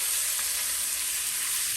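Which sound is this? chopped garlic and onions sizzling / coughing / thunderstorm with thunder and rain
chopped garlic and onions sizzling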